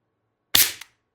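Single sharp shot from a TR50 Torpedo CO2 air gun firing a 12.7mm ball bearing, a short loud crack alone in silence with a brief second tick right after.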